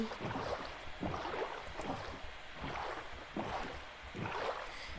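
Boat gliding across water in the Minecraft video game, soft repeated splashing and rushing swells at low volume, with no speech.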